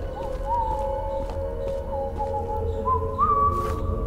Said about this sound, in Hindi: यहाँ कोई सीटी बजा रहा है